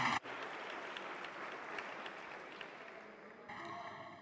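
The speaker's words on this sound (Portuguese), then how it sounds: "Querem continuar a bater palmas?" Audience applause in the Portuguese parliament, a steady broadband patter of clapping filling the chamber for several seconds before thinning out, with a brief voice at the very start.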